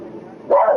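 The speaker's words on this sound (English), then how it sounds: "You don't got to do all that barking." A dog gives a short loud bark, after a stretch of low muffled background noise, heard as a single abrupt yelp-like burst near the end.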